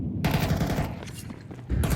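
Rapid automatic gunfire from Counter-Strike 2 in a professional esports match at PGL Masters Bucharest 2025: dense, loud bursts of shots in quick succession, briefly pausing and then resuming.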